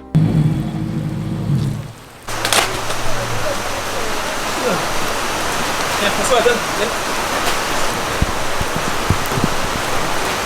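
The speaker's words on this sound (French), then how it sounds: "il pleut déjà." Steady rain pours down on a motor racing circuit, a dense broadband hiss with scattered drop impacts, while a few words are spoken briefly in French near the start.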